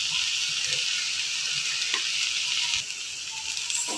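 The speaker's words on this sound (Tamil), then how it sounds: "சாதத்தை சேர்த்துட்டு அப்படியே கலரி கொடுத்துட்றேன்" Cooked rice with curry leaf powder is stirred in a hot pan, a steady loud sizzle running throughout with occasional soft scrapes of the spoon, close by and with no talk.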